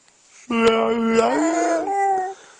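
A close dog lets out a long, wavering whimper that rises into a drawn-out whine, then trails off.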